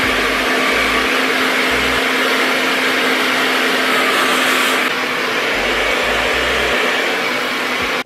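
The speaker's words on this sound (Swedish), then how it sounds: "Och nu ska jag tänka ta och föna det här." A hair dryer blows steadily and loudly for the whole stretch while hair is dried at home, a constant close whooshing hum with a faint low motor drone underneath.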